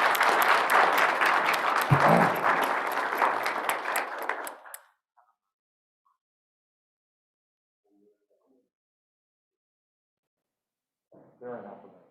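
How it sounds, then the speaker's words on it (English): Applause from a school board meeting audience for a boys cross country team, steady clapping for about four and a half seconds, then near silence with a brief burst of sound near the end. "Let's have a round of applause for our boys cross country team."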